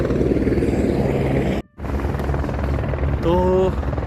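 A helicopter on the flight to Kedarnath drones loudly with steady rotor and engine noise from inside the cabin, briefly cutting out once, then continuing with a faint rising tone near the end.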